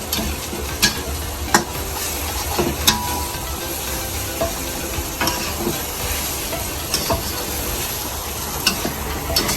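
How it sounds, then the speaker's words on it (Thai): Rat meat being stir-fried in a pan for a spicy dish gives a steady, loud hiss and sizzle, broken every second or so by short scraping knocks from stirring. "เอาหนูลงไปผัดให้มันสุกเลยใช่ไหม"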